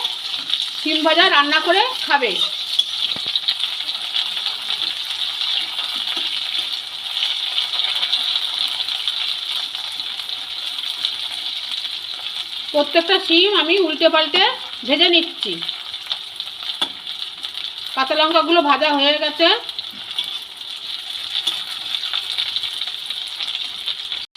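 Flat beans (shim) frying in a pan give a steady, close sizzle throughout, with stirring scrapes, and a voice speaks over it in three short stretches.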